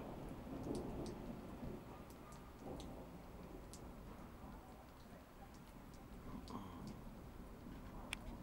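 A thunderstorm with lightning over power lines: steady rain hiss runs throughout under low rolling thunder, all fairly faint and distant, with a few brief ticks and sharper cracks.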